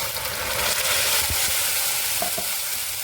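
Spice paste tipped into softened onions in a hot pan for a Marathi fish curry, giving a steady loud sizzle and frying hiss with faint stirring scrapes, no talking.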